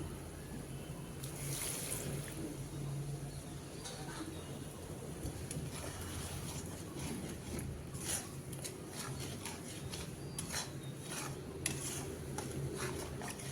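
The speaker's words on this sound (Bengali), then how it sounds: "মশলাগুলো নিচ থেকে লেগে যাচ্ছে, তার জন্য আমি এখানে দিয়ে দেব অল্প পরিমাণ গরম জল।" Hot water splashed into spices frying in a pan for an egg and chickpea curry gives a steady, faint sizzling hiss, with occasional light clinks of a utensil against the pan.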